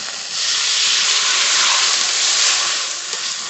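Water poured into a hot pan of frying paneer, potato, soybean and drumstick vegetables hisses loudly in a steady burst of steam, then dies back down.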